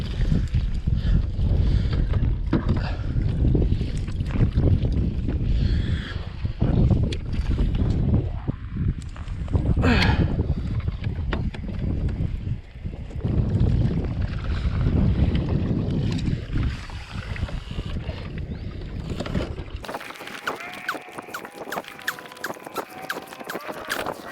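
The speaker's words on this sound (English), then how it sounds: "The wind is whooping our butts, so this wind is about 15 miles per hour right now" Strong wind of about 15 mph batters the microphone during kayak fishing on the California Delta, a loud, continuous gusting roar that cuts to quieter water sounds near the end.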